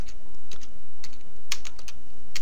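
Typing on a computer keyboard into the Windows search box, a quick uneven run of close key clicks over a steady background hiss.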